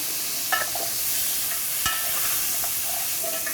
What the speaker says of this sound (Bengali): এই যে 100 গ্রাম চিংড়ি মাছ ধুয়ে পরিষ্কার করে রেডি করে রাখছি, এটা একটু ভেজে নিব।